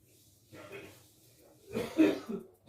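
A few soft coughs, one quiet hack early, then a louder burst of two or three coughs near the end, nearby with no talking.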